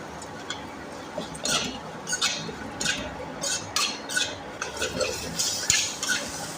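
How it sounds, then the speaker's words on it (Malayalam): Okra sautéed with salt in a pan is stirred with a utensil, producing repeated scraping and clinking strokes over a soft sizzle, close and fairly quiet, with no talk. "ഇനി സോൾട്ട് കൂടെ ചേർത്ത് കൊടുത്ത് നന്നായിട്ടൊന്ന് വഴറ്റിയെടുക്കണം കേട്ടോ"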